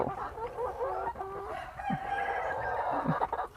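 Chickens on a laying-hen farm cluck and call steadily, with a rooster crowing among them; the fowl sounds are moderately close and continuous, with no talking.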